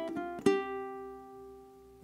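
Ukulele strings 4 and 3 strummed with the index fingernail: a couple of soft plucks, then one clear strum that rings out and slowly decays, followed by a faint new note at the end.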